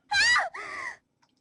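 A female character, Saki, lets out a sharp, high scream that breaks into a second strained cry as the floor shakes in an earthquake in the visual novel game Never7; two close, loud vocal bursts, then silence.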